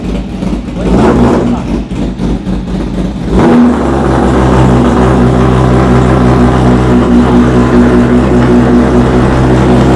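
A Honda Fireblade with a lithium battery cranks over and fires up after about three seconds, then settles into a loud steady idle with a rising rev, up close.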